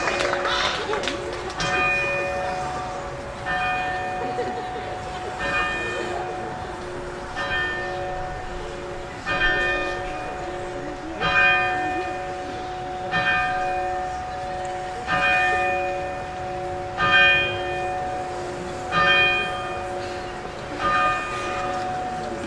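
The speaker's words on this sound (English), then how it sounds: "we will ring the historic Tower Bell, honoring the class of 2017" The historic tower bell of a high school rings out at a graduation ceremony, steady repeated strikes with long ringing tones, loud and close, continuing over a murmuring crowd.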